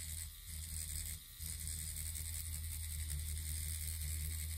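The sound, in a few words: rotary tattoo machine running and bogging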